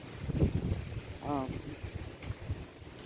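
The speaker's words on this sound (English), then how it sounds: "It's windy right now because of those two storms in the Gulf." Wind from Gulf storms buffets the microphone in low rumbling gusts in a cantaloupe garden while a voice briefly sounds over it outdoors.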